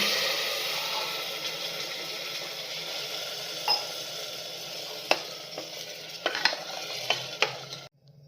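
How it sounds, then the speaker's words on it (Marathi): A glass of water goes into a frying black chickpea masala, which is then stirred, making a loud steady hiss and sizzle with a few light spoon clicks against the pot near the end. "त्यात आपण 1 ग्लास पाणी घालूया।"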